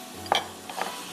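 Boiled chickpeas stirred into sizzling mutton in a pot, with a couple of brief scraping stirs over a steady low frying hiss.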